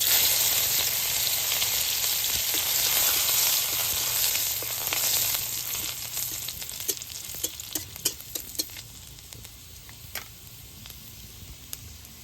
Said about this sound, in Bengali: মাছ ভাজার তেলে আমি পুরনো দিয়ে দিচ্ছি রসুন কুচি